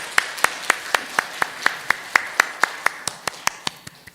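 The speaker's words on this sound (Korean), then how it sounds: "감사의 박수 올리겠습니다" A church congregation claps in unison during a Sunday service, sharp even beats about four per second that carry on steadily and then taper off.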